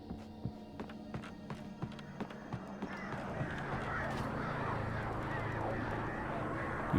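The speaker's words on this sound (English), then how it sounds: "Back off, birds!" Birds attack in the video game Alan Wake Remastered: a run of sharp, evenly spaced clicks and taps gives way to a dense, steady swarm of screeching wing-flapping bird noise that fills the rest of the clip.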